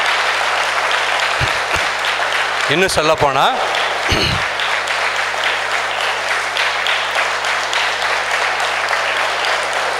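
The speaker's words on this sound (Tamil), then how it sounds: "அதுக்காக மீண்டும் நாம் உற்சாகமாக கைதட்டுவோம்" Youth retreat audience at Don Bosco in Yercaud clapping together, a sustained wash of hands throughout, with a brief spoken voice rising over it partway through.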